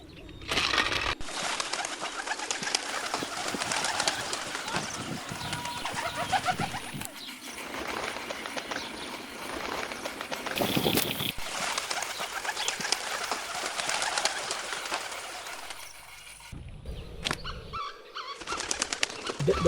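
Pigeons or doves arrive at a rice farm at sunrise, with constant wing flapping and fluttering, occasional cooing and bird calls, dense and close, and a few sharp clatters near the end.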